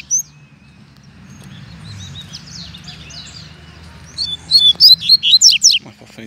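A trinca-ferro (saltator) sings out in the countryside, with faint chirps early on and then a bright burst of loud, clear whistled phrases near the end over a low background rumble.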